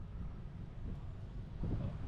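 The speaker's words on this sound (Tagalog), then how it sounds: "Grabe yung ganda yung hangin, no?" Wind blows steadily across a rooftop garden, a dense low roar of buffeting microphone noise that swells briefly near the end, with no other clear sounds.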